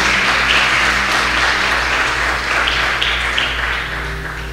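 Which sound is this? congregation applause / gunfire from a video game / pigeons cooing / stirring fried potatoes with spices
congregation applause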